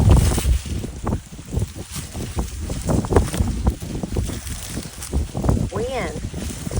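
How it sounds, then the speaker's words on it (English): Strong gusts buffet the microphone outdoors in a garden, a loud rumbling roar that surges and fades under people talking. "Wind. Unbelievable."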